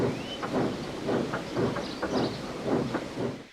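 Henry the steam engine puffing away along the railway, a steady rhythmic chuff of repeated exhaust beats at close range with a brief whistle-like squeal near the start, no voices.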